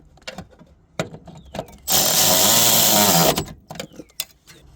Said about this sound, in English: Use an electric ratchet to tighten it, then use a regular wrench to snug it.